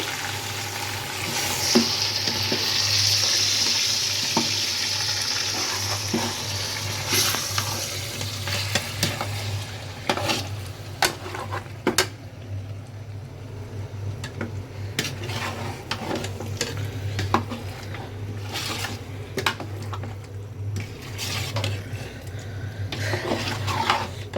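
Beef chunks fry in mustard oil in a pot for tehari, giving a steady close sizzle with stirring scrapes and occasional clinks of a utensil against the pan, no voices.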